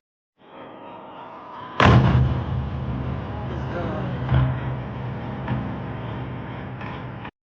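A drone diving straight onto a warehouse and exploding: a sudden heavy blast with a deep boom, then a sustained rumbling roar and a few further thuds and cracks, loud and fairly close throughout.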